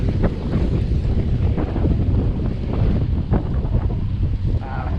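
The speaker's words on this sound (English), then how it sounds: "It's a little windy." Steady wind buffets the microphone with a heavy low rumble throughout, continuous and loud with no clear breaks.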